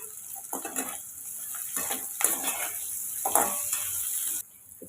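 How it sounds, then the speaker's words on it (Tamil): Sliced bitter gourd sautés in oil with salt in a pan, a soft sizzle with intermittent scraping stirs and light utensil clinks, fairly quiet and close, without speech, before the sound cuts near the end. "இப்போ இதை நம்ம எண்ணெயில் நல்லா வதக்கி எடுத்துக்கிறலாம் பாவக்காய்க்கு கொஞ்சம் உப்பு சேர்த்து வதக்கிக்கிடுவோம்"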